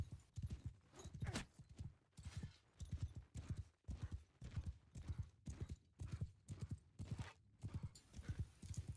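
Cavalry horse hooves pound in a steady galloping clip-clop rhythm through a video game battle, loud and close throughout, with a brief neigh mixed in.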